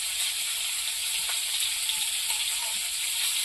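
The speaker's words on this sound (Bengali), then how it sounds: "মাছ ভাজাটা হতে হতে আমি তেঁতুলে জল দিয়ে রেখে দেবো" Fish frying in a pan for a sour tamarind fish dish, river fish in hot oil, giving a steady, close sizzle that holds unbroken throughout with faint crackles and no voices.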